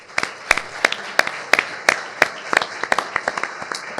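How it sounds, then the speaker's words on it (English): A modest round of applause from a panel audience, with distinct, fairly sparse claps repeating irregularly for about four seconds, no talking over it. "You guys join me in a round of applause"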